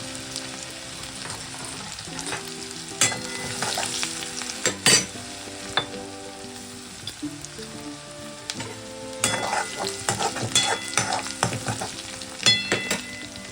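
Garlic, nigella seeds and dried red chillies frying in hot oil, a steady crackling sizzle with intermittent scraping and clinks of a spoon against the pan, close and moderate in level.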